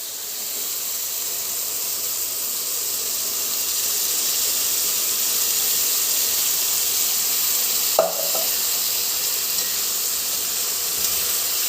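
Ground coconut paste hits a pan of simmering tomato curry, giving a steady sizzling hiss throughout with one brief clatter midway.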